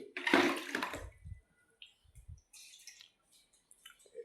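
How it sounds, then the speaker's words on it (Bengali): A short gush of water pours and splashes for about a second, then settles into soft trickles and faint drips. "এই যে পানি দিয়ে দিলাম আমি"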